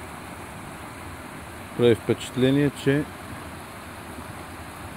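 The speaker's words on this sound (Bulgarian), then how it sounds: "Това е водата, която изтича през рибния проход." Water flows through a fish pass at a river intake for the Debnevo hydropower plant on the Vidima river, a steady even rush throughout, with someone speaking briefly over it partway through.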